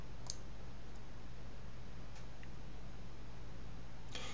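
A computer mouse gives faint, sharp clicks in a quiet room, a quick pair near the start and another cluster at the end, with a steady low hum underneath.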